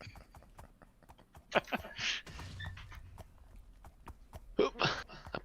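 Horse hooves clip-clop at a walk in the Mutant Survival video game, a steady close rhythm of hoof knocks with bursts of louder scuffing and clatter, alone without talk.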